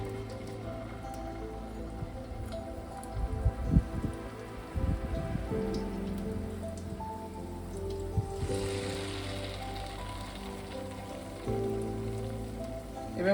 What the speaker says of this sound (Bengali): গোলাটা থেকে ডুবিয়ে এইভাবে আমি ভেজে নেবো সবগুলো।